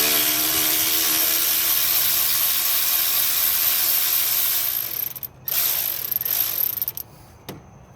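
A ratchet wrench loosens the belt tensioner bolt on a 2009 Toyota Corolla during an alternator swap, a steady close-up buzzing ratchet clicking for several seconds, then brief stops and a final short burst.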